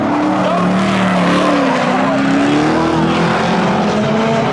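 Race cars roaring around a track on the final lap of a Memorial Day thrill show spectator drags event, a loud continuous engine drone with shifting pitch as the cars race, and excited commentary running over it.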